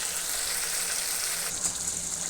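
Fish belly with spinach fries in a pan, a loud, continuous hiss that rushes like running water and swells briefly partway through, with no talking.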